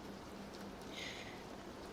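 Steady rain falls on a surface, a soft, even hiss with faint scattered drops that continues alone without voices.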